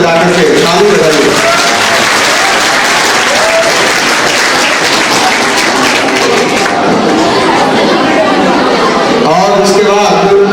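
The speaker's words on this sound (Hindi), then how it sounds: "ताली बजाते हुए आप लोग कला प्रवक्ता श्री महेश ताली बजा करके ताली बजाइए।" Loud, sustained applause from an audience at a school farewell party, dense clapping filling the whole stretch with crowd chatter mixed in and a voice speaking over it near the end.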